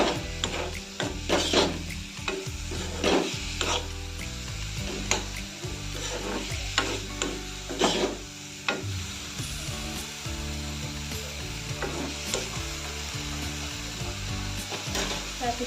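Onion, chili, ginger and garlic sizzle steadily as they fry in a pan, with a utensil stirring and scraping in repeated, uneven strokes close by; no one talks over it.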